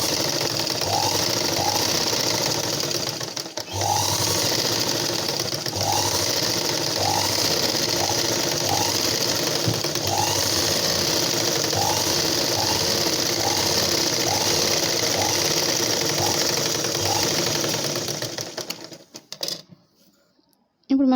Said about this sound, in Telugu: ఇప్పుడు మనం ఎక్స్ట్రా భాగం మీద నుంచి ఈ వార్ నుంచి మనం స్టిచ్చింగ్ చేసుకోవాలి.